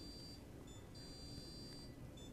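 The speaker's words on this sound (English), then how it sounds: "Oh, I think it's the dishwasher." A dishwasher in a home kitchen gives a faint series of short electronic beeps in an even rhythm over a low steady hum of room noise.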